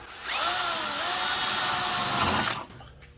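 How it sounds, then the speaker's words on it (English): A power drill whines steadily at high pitch for about two seconds as it bores a 3/16 inch hole through metal, then spins down and stops. "I'm going to drill 3/16 inch hole."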